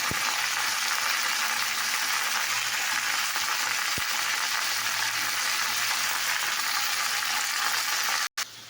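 Fried cauliflower and spice masala sizzle steadily in a pan, a loud, continuous frying hiss with a faint clink of stirring and a brief break just before the end.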